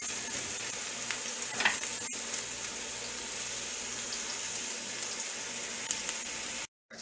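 Onions frying in a pan for Filipino chicken curry make a steady, moderate sizzle with a single sharp utensil knock partway through, before the sound cuts out abruptly at the end.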